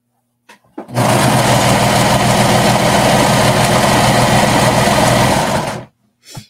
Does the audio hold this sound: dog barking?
no